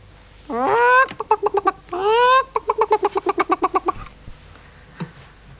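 A close, high-pitched chicken call rises twice, each time followed by a rapid run of short clucking notes, then quiet.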